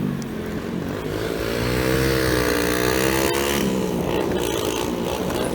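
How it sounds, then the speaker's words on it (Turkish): A car engine drones steadily from inside the moving vehicle during an evening drive, its pitch sagging and rising slightly with a brief sharp click midway; loud and close, no speech. "Motor gürültüsü gidiyor."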